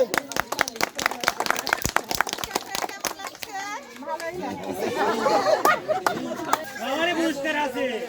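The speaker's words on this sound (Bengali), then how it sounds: "জোরে তালি হবে একটা" Spectators at a local women's roast-chicken-cutting game clap loudly and quickly at the prize-giving, the dense clapping fading after a few seconds into lively crowd chatter and children's voices with a few scattered claps.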